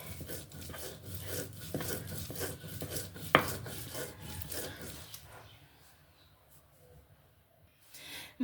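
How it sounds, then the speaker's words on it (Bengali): Tulsi leaves with their stems being ground by hand on a grinding stone, a close rhythmic scraping and rubbing that runs steadily before easing off into quieter, sparser strokes. "পাতার ডাটা সহ বেটে নিচ্ছি সেই জন্য একটু সময় লাগছে"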